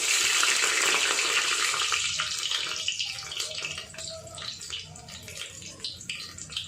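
Garlic cloves go into a tablespoon of hot oil for a Sindhi-style onion, chickpea and potato curry, giving a loud, steady hiss that settles into softer crackling and spattering.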